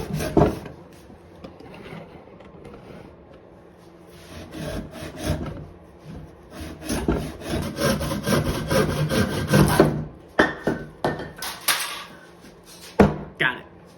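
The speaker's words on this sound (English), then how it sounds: "I'm just going to lock it in vise and cut it to length." A hand saw cuts a big piece of wood clamped in a vise in a workshop: quick, rasping back-and-forth strokes come in bursts, loudest in a long run midway, with a few knocks and clunks between.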